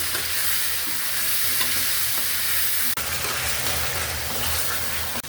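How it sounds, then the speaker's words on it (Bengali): Spices fry with onion paste and salt in a pan for chicken morog polao, a loud continuous sizzle with steady stirring scrapes close up and a brief dip in sound partway through. "পেঁয়াজ বাটা, স্বাদ অনুযায়ী লবণ, একটু মশলাটা একটু ভাজে নেই"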